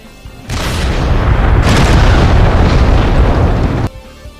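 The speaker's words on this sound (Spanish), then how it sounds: "El disparo del potente cañón KWK-36 desintegra el blindaje lateral del Sherman al que impacta" A powerful KwK 36 tank cannon fires at a Sherman, setting off a heavy boom followed by a sustained roaring blast of the ammunition exploding, very loud and close for several seconds before cutting off abruptly.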